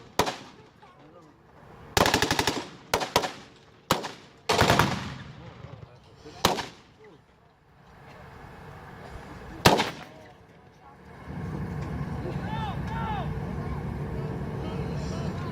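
Vietnam War reenactment gunfire: sharp, loud bursts of automatic fire and single shots in uneven clusters, then a lull with a distant engine rumble and voices talking in the background.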